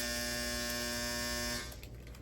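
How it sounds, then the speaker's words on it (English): A clothes dryer's finish alarm buzzes with a steady, loud electronic tone for about a second and a half, then cuts off, leaving quiet room noise. "my clothes dryer is going off"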